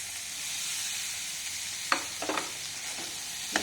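Fresh peas sizzle in a hot pan with oil, a steady close frying hiss broken by a few scraping spoon strokes as they are stirred, with no voices.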